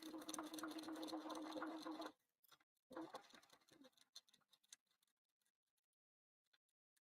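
A sewing machine stitches a curve on a framed bag lining, running steadily and loud for about two seconds, then stopping, followed by scattered faint clicks and handling taps.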